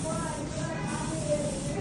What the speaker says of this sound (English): Whenever you spray closer to the hairline,